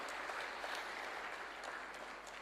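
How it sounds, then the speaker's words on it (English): Audience applause at a lecture event in Dar es Salaam, Tanzania: a dense, steady wash of clapping from a large crowd, sustained and even throughout. "A round of applause, please."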